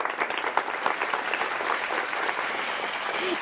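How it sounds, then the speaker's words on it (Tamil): Strong, sustained applause from an audience for school and college students in the final round of a Thirukkural speaking competition; a dense, steady clatter of many hands without speech. "இந்த மாணவ மணிகளினுடைய இந்த முதல் முயற்சிக்கு நாம் பலமான வளமான கைத்தட்டலை வழங்க வேண்டும்"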